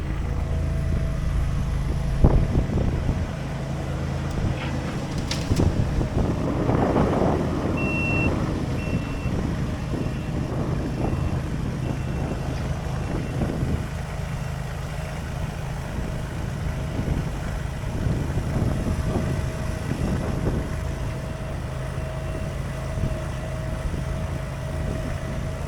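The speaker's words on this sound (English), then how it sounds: "I'll get some footage here of Eric running the skid loader and loading it." Skid loader working outdoors as it loads a trailer, a steady engine drone with a high reversing beep and mechanical clunks, all under constant wind noise; no talking.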